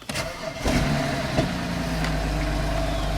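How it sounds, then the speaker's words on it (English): A 2008 BMW 535i engine cranks and catches, then settles into a steady, close idle with a continuous low rumble and no talking. "So I'm going to start the car."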